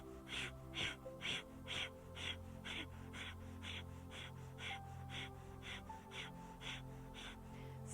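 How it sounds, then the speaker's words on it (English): Breath of fire during a breathing exercise: rapid, rhythmic belly-pumped exhalations sound as a steady train of short, sharp puffs, about two per second, close and clear. "we're going to start to pump the belly, bring that breath of fire into play once again"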